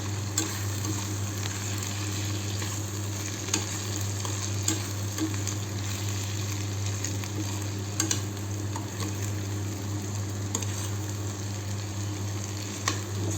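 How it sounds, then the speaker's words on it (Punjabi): Turmeric, coriander powder and basic spices frying in a pan for a Punjabi potato and okra dish, a steady soft sizzle under a low hum, with occasional scraping clicks of stirring. "ਮਸਾਲਿਆਂ ਨੂੰ ਚੰਗੀ ਤਰ੍ਹਾਂ ਰਿੱਝਣ ਦਵਾਂਗੇ"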